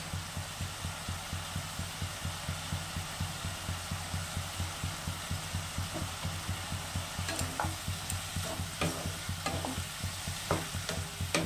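Radish and shrimp fry in a pan with turmeric and salt, a steady sizzle running throughout while a utensil stirs in regular scraping strokes, with sharper clinks of the spoon against the pan toward the end and no talking.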